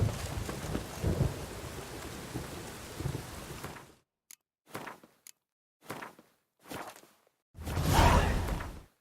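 Thunderstorm with rain in The Witcher 3: a steady dense hiss of rain with low rolling thunder, then a series of separate whooshing gusts and a final loud rumble, with no talking.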